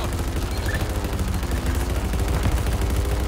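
Rapid gunfire from a Halo Infinite match rattles on continuously and loudly, a dense stream of shots with no gaps and no one talking.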